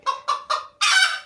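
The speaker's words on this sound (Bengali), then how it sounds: "এই যে মুরগি" Domestic village hens give three short, loud honking squawks followed by one longer, drawn-out call, close by with no talk.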